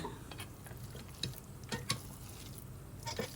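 Chicken rice (khao mok gai) scooped from a rice cooker onto a plate, a run of soft scraping, stirring and light clinking touches, faint and close, with no talking.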